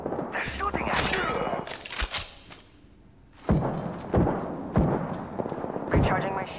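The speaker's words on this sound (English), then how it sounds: "They're shooting at you!" Gunfire in Apex Legends, a loud rattle of rapid shots followed by a pause, then several heavy booming thumps and further shots, with voices talking in between.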